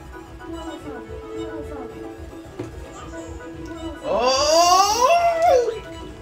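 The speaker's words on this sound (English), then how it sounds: "Dogs are on him. Mechanical dogs." Mechanical dogs chase in the video game Nintendo Land Mario Chase, with electronic barking and yipping, a loud rising dog-like whine near the end, over background game sounds and voices.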